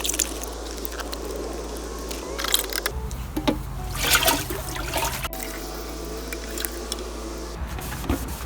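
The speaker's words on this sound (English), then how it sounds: "So I'm going to go ahead and add water to this bucket and to the tank." Water is poured into a bucket and into the tank of a rusty Dyna-Glo 95 indoor kerosene heater, a continuous splashing, gurgling flow with shifting intensity and occasional knocks over about eight seconds, no talking.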